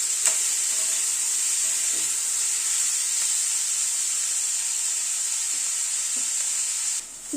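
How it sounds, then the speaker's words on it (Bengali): Onion, potato and capsicum frying over a medium gas flame: a constant bright, hissing sizzle with a few faint ladle knocks, steady and close, with no talking. "গ্যাসের ফ্লেমটাকে মিডিয়ামে রেখে সবকিছুকে একটু ভেজে নিচ্ছি।"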